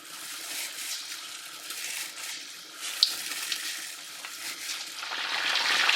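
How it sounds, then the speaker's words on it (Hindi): Chicken pakora pieces drop into hot oil and fry, a close, airy hiss and bubbling that holds steady and then swells louder toward the end, with no talking. "तो यहाँ पर तेल गर्म हो जाने के बाद इसमें आप ये पीसेस डालते हैं"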